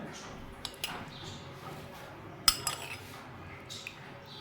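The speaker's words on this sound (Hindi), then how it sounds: "शीरा ऐड कर दूंगी, 2 ही चम्मच मैं इसमें ऐड कर रही हूँ" A spoon clinks lightly against small cups as sugar syrup is spooned into food colour for watermelon-rind tutti frutti; a few scattered taps, one sharper near the middle, over a soft steady room background.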